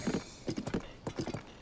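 Hooves clip-clop in quick, uneven bursts of four or five beats as a horse trots in the game Tears of the Kingdom, moderately close and alone, with no voices.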